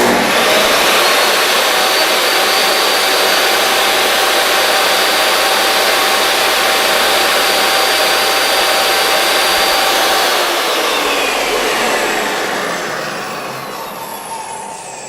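A DeWalt table saw runs steadily and loudly, a dense whine with no cuts, easing down slightly in its last few seconds; no one speaks.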